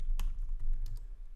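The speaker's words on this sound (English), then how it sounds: "we're just gonna create a simple project by typing" Quick clatter of keys on a computer keyboard while a simple project is typed in, a few sharp close clicks spread over a short burst with a soft hum beneath.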